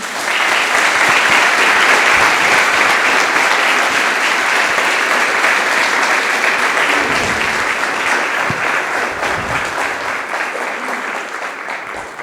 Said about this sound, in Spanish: quiero que recibamos con un caluroso aplauso a Yasuaki